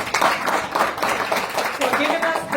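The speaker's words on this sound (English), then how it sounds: "A round of applause, please" Audience applause at a United Nations conference hosted with COJEP International, a dense patter of clapping from a room full of people, steady and fairly close, with some voices mixed in.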